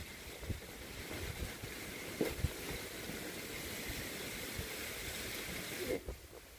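Strong wind from Cyclone Montha roars steadily around a house garden, a broad continuous rush with a few sharper gusts and rattles standing out.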